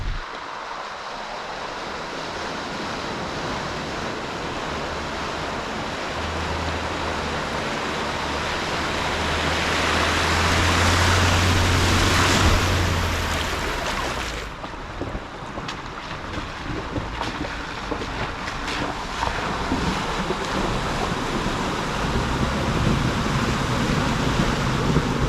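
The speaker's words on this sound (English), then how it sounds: "Waterfall," Rushing waterfall in the Ozarks during an offroad camping trip, a steady broadband roar of falling water with some wind buffeting on the microphone, swelling midway then continuing unbroken, no talk.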